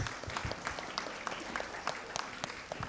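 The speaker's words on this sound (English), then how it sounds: "Give yourself once again a big round of applause, boys and girls" Lively applause from a gathering of students, moderately loud, with distinct individual claps standing out in an uneven, continuous patter.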